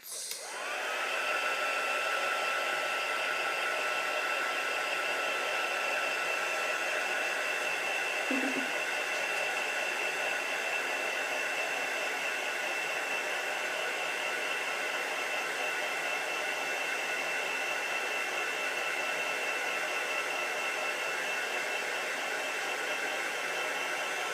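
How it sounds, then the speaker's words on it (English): A heat gun used for heat embossing blows a steady, loud airy whoosh that starts abruptly and runs unbroken for over twenty seconds. "Then I'm going to heat emboss it."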